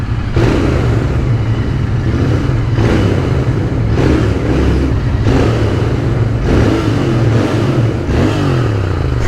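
A Royal Enfield Interceptor 650 (BS6) motorcycle engine revs repeatedly in loud bursts, the exhaust roaring up and dropping back in a steady rhythm, close by.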